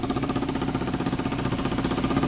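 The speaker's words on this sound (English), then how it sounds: "Turn that on, push the button to start it. Oh, and it runs." A Suzuki DRZ400 motorcycle, long left sitting with a rusted-out exhaust, runs close by with a steady, throbbing single-cylinder beat, loud and rough, with no voices over it.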